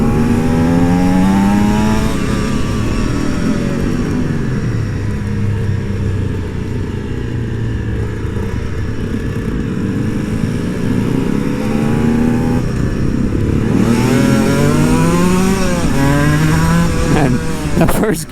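Aprilia SX-125 two-stroke supermoto motorcycle engine revving loudly and steadily close by, its pitch rising and falling in repeated swells, with a rider talking over it now and then.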